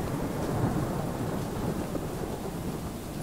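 Steady heavy rain with a low thunder rumble in the horror video game Choo Choo Charles, a dense, even wash of noise with no talking.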